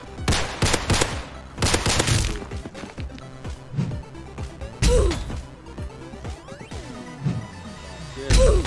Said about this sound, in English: The fuck is shooting at me with a Beretta?